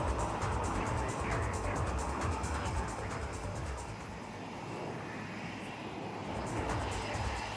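Loud, continuous roar of aerobatic jets in an air show flying display passing overhead, a broad rushing engine noise that swells and eases slightly before building again.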